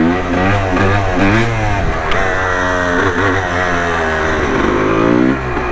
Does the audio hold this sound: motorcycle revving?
yes